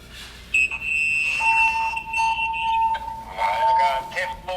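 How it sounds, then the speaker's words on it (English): Fire alarm sounding during a smoke detector test in a building's 10th-floor trash chute: steady electronic alarm tones, with a high pitched beep joined by a lower sustained tone, continuous and fairly loud. "Level 10 trash chute smoke detector test."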